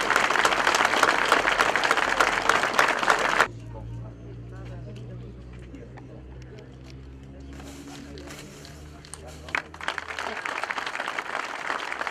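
Dense applause from a crowd at the inauguration of a new Alpini headquarters in Storo fills the opening seconds, gives way to a quieter stretch with low droning hum, then clapping swells again near the end.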